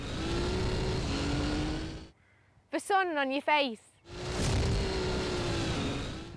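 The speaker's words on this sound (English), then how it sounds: "the sound of a monster exhaust. On an MR2 turbo, come on!" A Toyota MR2 Turbo's loud aftermarket exhaust roars, cutting out briefly while someone speaks, then the engine note swells back in strongly.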